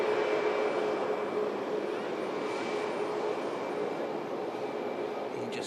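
A giant aircraft rolls slowly onto its airport stand, its engines producing a steady, broad jet roar with a faint high whine, continuous and fairly loud throughout.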